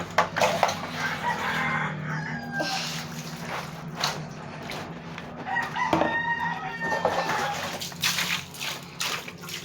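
Chickens cluck and a rooster crows amid busy outdoor noise with splashing water, the calls rising and falling over several seconds.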